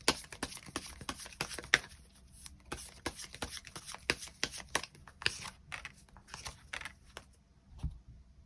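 Tarot cards are shuffled and drawn up close, with quiet, rapid riffling and soft taps and flicks of card stock that come in irregular bursts.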